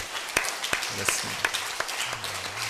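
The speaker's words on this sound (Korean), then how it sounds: "박수 한 번 더." A church congregation breaks into scattered, separate claps, about half a dozen sharp hits spread unevenly, while someone speaks over them in a fairly hushed hall.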